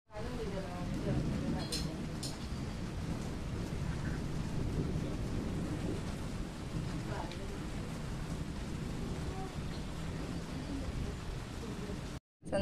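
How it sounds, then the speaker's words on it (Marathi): Evening rain falling outside a home, a steady, soft hiss with a low rumbling undertone that continues throughout before cutting off at the end, with faint voices in the background. "संध्याकाळी पाऊस चालू झाला आहे आणि आता तिकडे बाहेर पाऊस पडते."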